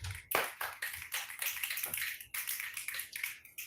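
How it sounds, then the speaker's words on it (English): An open mic poetry audience snaps their fingers in appreciation, a dense, overlapping patter of crisp snaps and taps that rises and falls in quick waves without any voices. "Snap your fingers for Rafa."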